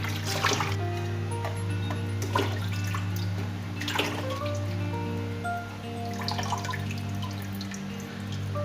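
Eggplant is washed in a single change of water, with soft splashes and drips over a steady low hum, moving water clinking at irregular intervals.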